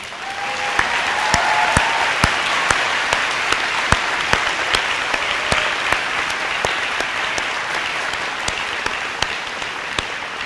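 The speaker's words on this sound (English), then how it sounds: "these students would maybe give you a round of applause" Graduating students at a summer graduation ceremony give the standing staff members a sustained round of applause, a dense steady wash of many hands clapping with a few sharper claps standing out, continuing the whole time without talk.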